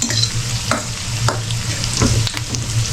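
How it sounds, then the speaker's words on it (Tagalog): Mushrooms sauté in a pan with a steady close sizzle, and spoon strokes scrape and tap against the pan at irregular moments. "Tapos dito na natin igisa yung yung pangalan nito, mushroom."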